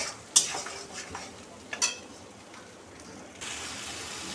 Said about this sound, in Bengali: ভালো করে মশলাটাকে আগে ভেজে নেব।